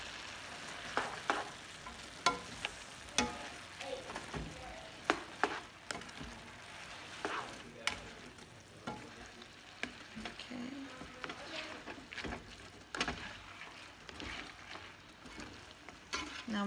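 Ramen noodles stir-fried with sauce in a hot pan over high heat, a steady close sizzle broken by frequent sharp scrapes and taps of the utensil against the pan.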